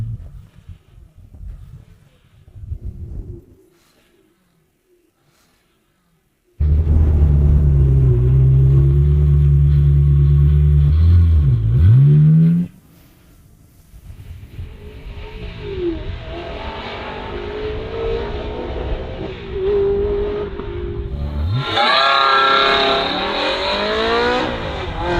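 A budget Ferrari fitted with a new exhaust system roars loudly at close range, falls quiet, then pulls away and revs repeatedly, the engine note climbing and falling in bursts.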